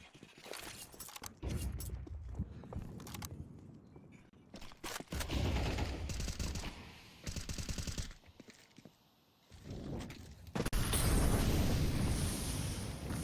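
AK rifle gunfire in Counter-Strike 2 comes as repeated loud bursts of rapid shots with short gaps between volleys, punctuated by explosions and footsteps in a busy competitive match.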